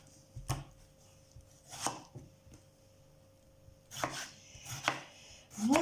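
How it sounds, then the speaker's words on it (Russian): A kitchen knife cuts a tomato into large chunks, giving five separate sharp chops on a cutting board at an uneven pace, close and quiet. "теперь режем помидор"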